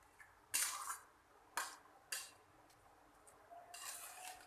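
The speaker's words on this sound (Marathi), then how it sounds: "तर दूध सगळीकडे मिक्स करून घ्यायचे" Grated carrot halwa being stirred with milk and cream in a pan, a spoon scraping and clinking against the metal in a few separate bursts with quieter gaps between, close and fairly loud.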